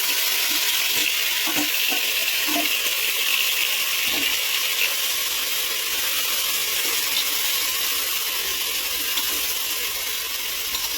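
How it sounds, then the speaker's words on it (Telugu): Marinated chicken sizzling loudly in hot ghee in a pressure cooker for biryani, a constant dense hiss close by with a few scattered crackles and clicks. "మనం మ్యాగ్నేట్ చేసుకున్న ఈ చికెన్ని కుక్కర్లో వేసుకోవాలి."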